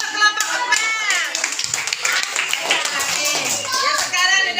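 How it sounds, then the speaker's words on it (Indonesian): Schoolchildren in a classroom clapping their hands in a burst of applause, mixed with loud excited children's voices and chatter close by. "tepuk tangan untuk kelompok 4"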